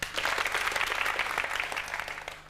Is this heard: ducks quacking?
no